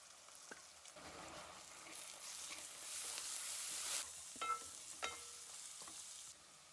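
Onions fry in a pan for mutton keema curry, with a quiet steady sizzle broken by a few clinks and scrapes of stirring, no voices.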